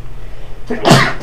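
A single sharp, close sneeze bursts out after a brief quiet moment, loud and sudden.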